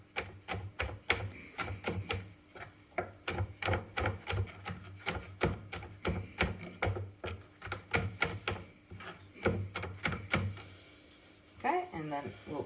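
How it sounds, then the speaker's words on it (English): A kitchen knife chops ingredients for tuna pasta on a cutting board in quick, rhythmic bursts of sharp taps, fairly close, with brief pauses between runs and a little clatter near the end. "So this dish is mainly a chopping exercise"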